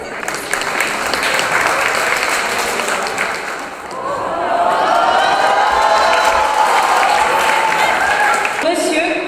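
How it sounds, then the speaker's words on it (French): Audience at a school prom applauding a teacher during a thank-you ceremony: loud, dense clapping with cheering and whoops from the crowd, plus voices calling out over the applause. "Mesdames et messieurs, veuillez applaudir Madame Tetiana Ternova."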